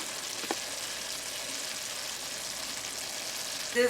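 Steak meat for Philly cheesesteaks frying in a pan, giving off a steady, soft sizzling hiss that continues evenly, with one faint clink partway through and a brief knock at the end.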